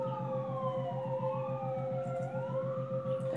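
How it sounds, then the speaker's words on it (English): An ambulance siren wails continuously with rising and falling tones, passing close by over a rhythmic low engine rumble, loud and steady throughout with no talking. "There goes the ambulance."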